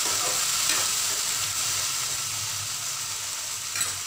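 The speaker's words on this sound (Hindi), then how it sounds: "अब मैं इसके अंदर टमाटर डालूंगी, अगर टमाटर मैंने डाल दिया है तो अब मैं इसको चला लूँगी" Tomatoes and chillies are stirred in a hot frying pan, giving a steady close sizzle and hiss with faint scraping from the stirring, continuous and even, with no voices.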